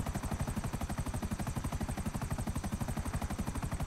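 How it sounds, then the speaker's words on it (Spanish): Helicopter in GTA V FiveM roleplay, its rotor thumping in a steady fast chop that stays loud and continuous throughout, with no talk over it. "Helicóptero por encima de Vanilla."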